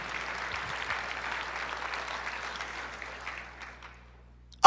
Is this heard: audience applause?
yes